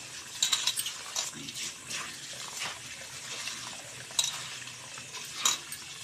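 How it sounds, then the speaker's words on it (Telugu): Rice for chicken biryani being washed by hand in water, with close, steady sloshing and swishing, intermittent louder splashes and faint scraping against the vessel, with no talking. "రెండు సార్లు మూడు సార్లు కడుక్కొని వాటర్ పోసి ఉంచుకోవాలి బియ్యం"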